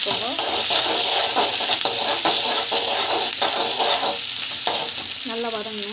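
Garlic and onion sautéing in oil, a loud, dense, constant sizzle with repeated stirring scrapes up close and a faint voice briefly underneath.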